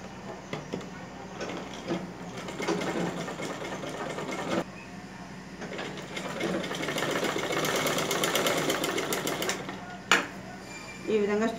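A sewing machine stitches pant pieces together in a tailoring workshop, a continuous mechanical whirr with steady rapid needle rhythm that surges and pauses briefly, heard fairly quietly with background noise throughout.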